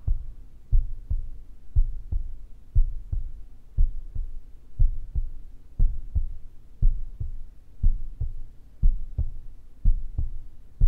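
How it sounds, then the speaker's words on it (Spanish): A heartbeat thumps steadily and deeply, paired lub-dub pulses repeating at an even resting pace, close and alone over a faint hum. "Y comienza a escuchar cómo late tu corazón."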